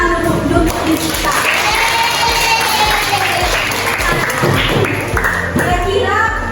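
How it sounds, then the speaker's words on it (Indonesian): Students in a school classroom clap together in a dense, steady burst of applause lasting several seconds, with voices chattering and calling out over it. "Jadi coba kita tepuk tangan dulu di kita."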